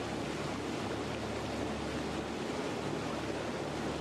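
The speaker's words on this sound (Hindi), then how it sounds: "कितना पीसफुल सा है ये झरना टाइप, ये वाटर फ्लो कितना पीसफुल है।" A small waterfall-like water flow gives a steady, even, faint hiss of rushing water with no pauses or other sounds.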